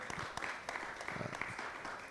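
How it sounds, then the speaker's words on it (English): Applause from an audience at an Islamic heritage talk on Islam in American history, a faint, distant patter of many hands with occasional sharper claps, heard alone. "while you're applauding"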